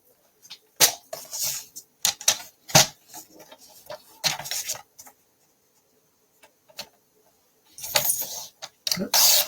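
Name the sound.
cutting a card in half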